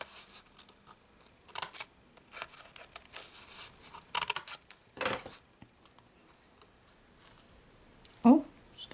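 Scissors snip small paper pieces while trimming a vellum gift bag craft project, a scattering of quiet, sharp cuts and rustles up close at an irregular pace.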